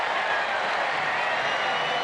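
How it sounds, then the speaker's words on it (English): A baseball crowd at a Rangers game applauds a double play, a steady, even wash of clapping from the stands that lasts throughout at a moderate, distant level, with no break or swell. "Worthy of a smile and a round of applause."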